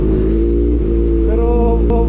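A Kawasaki ZX4RR motorcycle fitted with a loud, open Austin Racing shorty exhaust drones steadily up close, its harmonic tone climbing slightly as it revs in second gear, with no talk.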